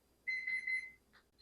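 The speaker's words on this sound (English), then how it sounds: "Oh, look, there's my yeast timer." A kitchen timer set for proofing yeast goes off in a home kitchen, one sustained electronic beep of about three quarters of a second followed by a brief softer chirp, clear and fairly quiet.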